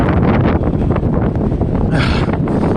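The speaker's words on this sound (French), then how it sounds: "because it's windy and cold" Strong, cold wind gusts outdoors beside the Lachine Canal in Montreal. A steady, loud broadband roar of buffeting microphone wind fills the whole stretch, with a brighter hissing gust near the end and no talking.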